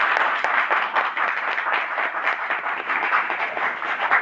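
An audience at a company venue gathering claps loudly in a dense, continuous burst that holds steady across the whole stretch.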